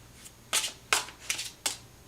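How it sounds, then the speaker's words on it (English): Tarot cards being shuffled by hand, four quick riffling bursts in an irregular rhythm, close and fairly loud, with no talk. "if I can shuffle without flinging them everywhere"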